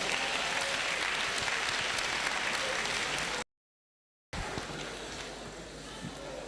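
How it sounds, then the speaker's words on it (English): An audience at a university inaugural lecture gives loud, dense applause that fills the hall continuously, broken by a short silent gap before the clapping resumes and slowly thins. "Please put your hands together."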